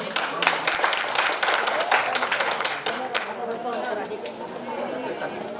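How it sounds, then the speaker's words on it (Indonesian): An audience at a psalm-reading competition gives a burst of clapping that is loud at first, then tapers off into crowd chatter and murmuring. "Kita beri aplaus."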